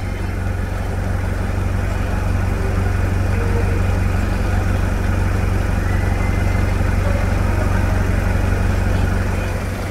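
A 2001 Toyota SW4 3.0 turbo diesel idling after a service, a steady close-up rumble with a low droning hum that holds unchanged for the whole stretch, with no voices.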